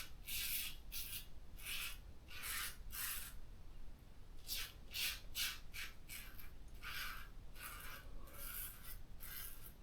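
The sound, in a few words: straight razor shaving against the grain, third pass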